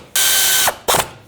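A torque wrench tightens a power steering pump nut on a 2001-07 Toyota Sequoia, giving two loud, close ratcheting bursts: one long run of clicks, a short pause, then a brief second burst.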